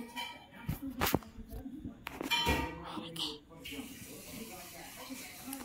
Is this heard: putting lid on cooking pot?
yes